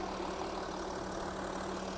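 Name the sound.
2.7 turbo diesel car engine idling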